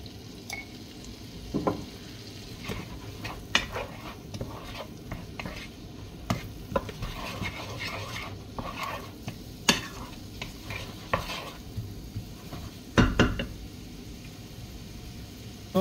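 Vegetables frying in a pan over raised heat with a little salt, a steady low sizzle broken by frequent clicks and scrapes of stirring, with no talk.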